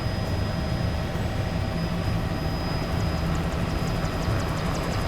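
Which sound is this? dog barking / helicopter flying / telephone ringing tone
helicopter flying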